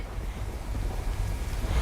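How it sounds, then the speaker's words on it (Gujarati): Water roaring out of fifteen opened gates of the Sardar Sarovar Narmada dam, a continuous heavy rumbling torrent with strong low-end wind buffeting on the microphone, loud and unbroken throughout. "ડેમના પંદર દરવાજા ખોલાયા છે ડેમનું લેવલ જાળવી રાખવા પાણી છોડાયું છે"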